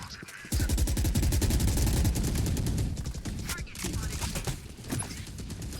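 Rapid gunfire and explosive bursts crackle through a Valorant match, a dense volley at first that thins into scattered shots, loud and close with a game soundtrack behind.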